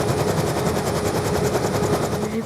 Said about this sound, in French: Donc là, je pilote un hélico.